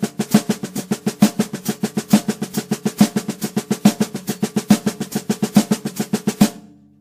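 A drum is played in an inverted single paradiddle-diddle led by the left hand, a fast, even stream of close, crisp strokes lasting about six and a half seconds before stopping.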